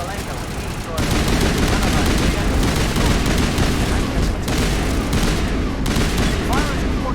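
Sustained gunfire in a Mass Effect battle against the Geth, a steady loud barrage of rapid shots and booms running almost the whole time after a brief quieter opening, with faint voices mixed underneath.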